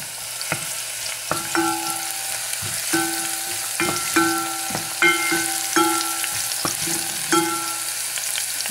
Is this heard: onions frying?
yes